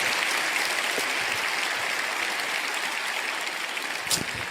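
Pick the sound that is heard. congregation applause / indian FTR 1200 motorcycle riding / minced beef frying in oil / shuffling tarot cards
congregation applause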